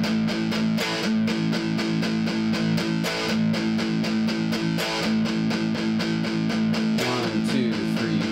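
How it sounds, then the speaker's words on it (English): Distorted electric guitar chugs through a beginner rock riff, open power-chord strums broken up by tight palm-muted hits in a steady driving rhythm, loud and upfront with no talking. "you're going to do an open strum and then some palm mutes and another open strum"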